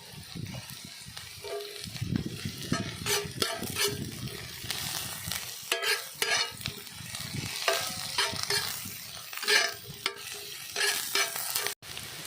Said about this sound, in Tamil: வெங்காயம் நல்லா வதங்கி ப்ரௌன் கலரில் மாறி வரட்டும். பச்சை மிளகா போட்டுருவோம்.